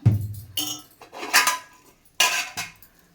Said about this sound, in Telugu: ఇంకా కడాయి పెడదాం బాండి ఇదిగోండి బాండి పెడదాం